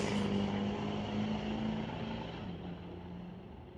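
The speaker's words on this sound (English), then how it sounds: "2006 Diesel GMC Sierra sponsored by Lordco and VDG Construction, spooling up that turbo and rolling coal all the way down the track" A 2006 diesel GMC Sierra drag racing down a track, its turbo spooling as the engine roars loudly and steadily, with a strong low drone that eases slightly as the truck pulls away.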